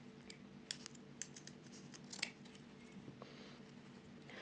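Scissors snip across the zipper of a raffia bag, a series of faint crisp cuts and scratchy clicks spread unevenly over a quiet room hiss.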